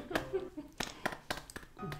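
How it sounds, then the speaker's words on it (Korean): A Korean grandmother claps her hands while trying apple cinnamon oatmeal at a table: about six sharp, irregular claps, fairly close, scattered under ongoing conversation. "거짓 박수 치지 마세요, 할머니"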